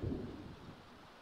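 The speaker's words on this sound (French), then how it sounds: "j'aimerais bien que l'orage se termine" Thunder from a storm in a farm video game rumbles low and steady, then fades, with rain-like hiss and no voices.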